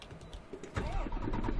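Truck engine starting in the Euro Truck Simulator 2 video game, a short cranking catch that settles into a steady low idle rumble, loud and close with no talk over it.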